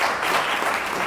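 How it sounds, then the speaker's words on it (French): Conference audience applauding a BNP Paribas digital director at a management event, a dense, steady burst of clapping filling the room throughout the short span. "Je vous demande de l'applaudir."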